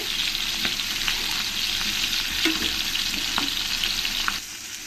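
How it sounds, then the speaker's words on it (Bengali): Pieces of katla fish sizzle steadily in hot oil in a pan while being fried crisp, a dense continuous crackle with occasional louder spits and a soft stirring scrape, no voices. "মাছগুলোকে এরকম করে ভালো করে লাল লাল করে কড়া কড়া করে ভেজে নিতে হবে"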